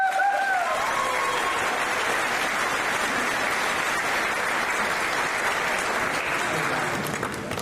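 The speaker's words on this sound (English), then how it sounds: "Please join me in a round of applause." A graduation ceremony audience breaks into steady, full applause that carries on evenly from start to finish, with a brief voice heard at the very beginning.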